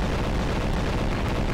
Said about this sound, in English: This is the biggest nuclear explosion in any video game I have ever seen.